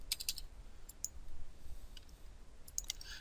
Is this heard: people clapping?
no